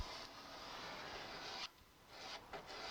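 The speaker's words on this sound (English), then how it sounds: "Here I'm just using a steel edge, which is actually a little steel ruler, just to scrape out any little bits" A small steel ruler edge scrapes varnish from wood veneer in close, dry rasping strokes that are continuous for over a second, break briefly, then resume in shorter passes.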